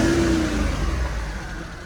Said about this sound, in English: give it a bit of a gas so you can hear the engine